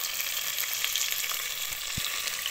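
Golden brown chicken pieces for tinola fry in a pan with a constant close sizzle and a brief soft knock near the end, with no talking.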